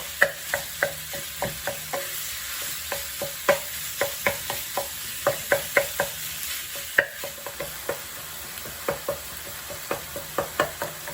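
Ground beef and garlic frying in a pan over lowered heat, stirred with steady scraping strokes: a string of sharp utensil clicks over a soft background sizzle, close and fairly quiet, with no voices.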